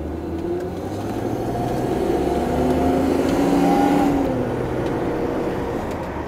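A 1986 BMW 735i E23 sedan with a 3.5-liter six-cylinder engine accelerates from inside the car, its engine tone climbing steadily in pitch and then easing off, a continuous moderately loud drone without talking.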